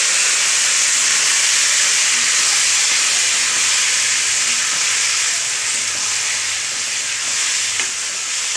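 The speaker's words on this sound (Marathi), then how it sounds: "जिरा छान तडतडला की आपण टाकतो टोमॅटो." Tomatoes hit hot oil with crackling cumin in a kadai for restaurant-style butter pav bhaji, giving a loud, close, continuous sizzle and hiss that holds steady throughout, with no voices.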